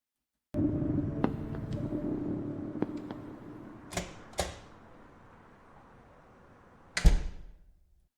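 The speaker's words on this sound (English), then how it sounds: "I like the way that the door closes and then we get this." A door on a music video set swings shut: a couple of sharp latch clicks followed a few seconds later by a louder, heavier thud that rings out briefly, over a low continuous room rumble.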